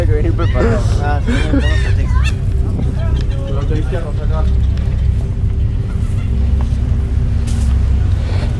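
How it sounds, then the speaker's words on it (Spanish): Bird calling at the former El Frontón prison site, a few honking, goose-like calls early on over a steady low rumble, with voices present. "Ah, un pájaro."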